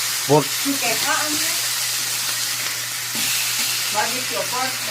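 Pork grilling in a frying pan, with a steady loud sizzle and hiss from hot oil throughout, and voices talking intermittently over it.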